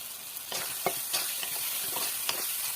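Fish masala with cumin, chilli and turmeric powders sizzles in a pan after a splash of water, with scraping stirs and soft crackles close up, steady and without talk.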